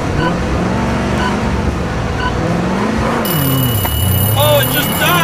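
Car engine idling and revving loudly at a drag race start between a Corvette and a Pontiac Trans Am, pitch rising and falling with a whine entering late, under constant talk.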